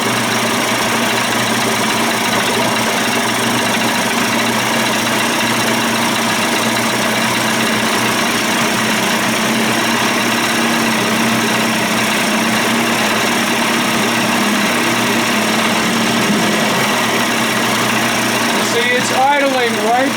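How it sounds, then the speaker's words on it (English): A Johnson Evinrude two-stroke outboard motor, a 25 to 35 hp conversion, idles steadily and close by on its carburetor, a continuous even drone with a brief change near the end. "That's the carb idling."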